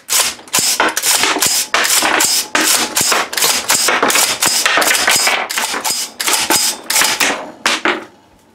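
Rapid string of about ten sharp, loud rifle shots from a 6.5 Grendel rifle, fired in quick succession with dense reports filling the span before ending abruptly.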